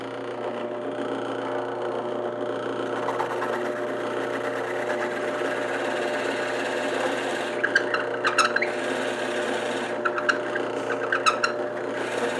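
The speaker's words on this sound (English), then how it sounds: "I'm drilling the holes now because it's easier to hang on to when it's a little bit bigger" A drill boring holes in a square wooden blank for a three-legged milking stool seat, a steady, moderately loud motor hum throughout, with short crackling bursts of cutting near the end.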